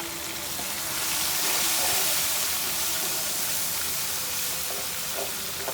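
Spices with ginger, chilli, salt, turmeric and coriander frying in a pan, giving a steady broadband sizzle and hiss that runs continuously at close range with no talk.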